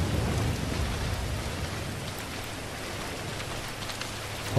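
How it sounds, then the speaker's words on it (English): Heavy rain pours down in Grand Theft Auto V as a helicopter is boarded, a dense steady hiss filling the scene with a low rumble underneath, loud and unbroken, no voices. "as soon as I get in the helicopter, it starts pouring rain"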